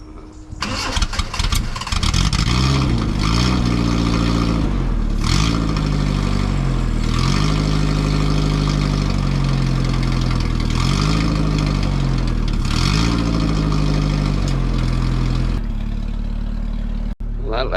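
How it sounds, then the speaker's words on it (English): A ratty roadster's engine cranks and catches, then runs loud and close with repeated rhythmic revs of the exhaust rising and falling for about fifteen seconds before cutting off abruptly. "Right, I'm going to give them a start, see how this exhaust sounds."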